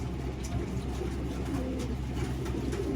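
A small-to-medium racing pigeon hen at a pigeon race coos over a dense, low background rumble, the bird call soft and partly buried.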